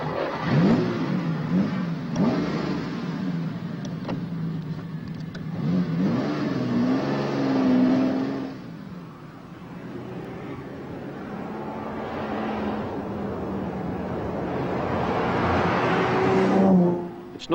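A Ferrari 12-cylinder engine revs up and down several times, rising to high-pitched wails between dips, close and loud, with no voices.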